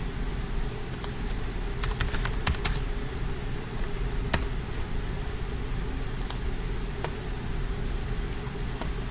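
Scattered clicks of a computer keyboard, with a few quick bursts and single keystrokes over a constant low hum from a fan.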